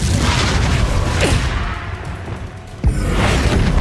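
A Confringo fire spell bursts in Hogwarts Legacy combat, giving a loud booming explosion with a sharp whoosh, then a second heavy impact near the end amid continuous battle noise.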